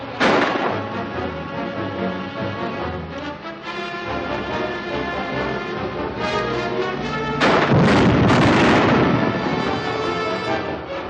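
Grenade explosions in a 1950 film, a series of loud booming blasts with crackling debris, one after another over several seconds, the heaviest burst coming near the end.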